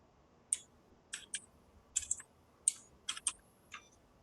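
Fingers typing on a computer keyboard during a programming session, a run of about ten crisp, close key clicks in an uneven rhythm, some in quick pairs, over a quiet background with no speech.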